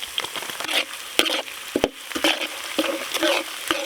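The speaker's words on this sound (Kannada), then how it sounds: "ಅಡುಗೆ ಎಣ್ಣೆ, ನಾಟಿ ಕರಿಬೇವಿನ ಸೊಪ್ಪು, ಜಜ್ಕೊಂಡಿರೋ ಬೆಳ್ಳುಳ್ಳಿ ಹಾಕೊಳ್ಳಿ" Curry leaves and crushed garlic dropped into hot cooking oil for a village-style country chicken pepper dry, sizzling and crackling loudly alongside scraping stirs, with no talking.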